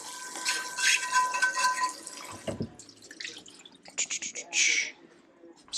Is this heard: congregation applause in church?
no